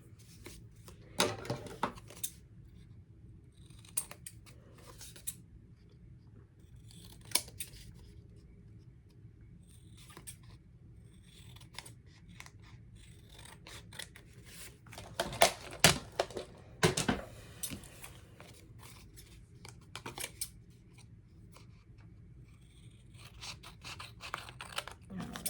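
Scissors snip through paper for a junk journal tag in a series of irregular crisp cuts and rustles, quiet and close, with a few louder snips clustered in the middle and no talking.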